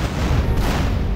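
Rumbling in-game explosion from Grand Theft Auto San Andreas, a loud, dense low boom that fills the whole moment without any talk.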